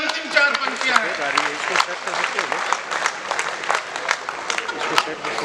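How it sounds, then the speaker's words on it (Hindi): Audience applause at a Hindi kavi sammelan poetry gathering, dense steady clapping filling the whole stretch at moderate loudness with crowd murmur mixed in. "जोरदार ताली बजाओ"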